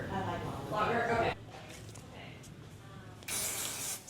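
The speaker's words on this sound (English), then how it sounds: "So Elevate is usually my setting spray for my curls." Elevate setting spray misted onto curled hair extensions, a brief broadband hiss near the end following a short spray burst earlier, with quiet room sound between; a voice talks before it.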